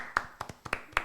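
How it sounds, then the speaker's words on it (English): A few people clap hands in a loose group rhythm, five or six sharp separate claps over about a second, close and fairly quiet with no talking. "Should we do our clap thing?"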